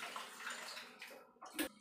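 Running tap water while mutton is washed in a kitchen, a steady close splashing rush that swells briefly near the end, with no voices.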